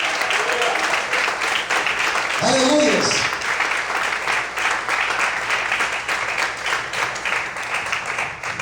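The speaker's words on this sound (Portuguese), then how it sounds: "abra sua boca e adore e aplauda a Deus bem forte em nome de Jesus" A church congregation claps to praise God during a sermon, a dense, steady wash of applause lasting throughout, with a voice briefly calling out over it.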